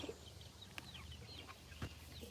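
Chickens clucking softly with their chicks, a few faint chirps and low clucks scattered through a quiet outdoor backyard setting with steady background hum.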